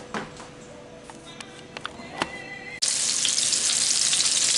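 Light scattered clinks give way to a sudden, loud, steady sizzle of food frying in hot oil, close and continuous to the end.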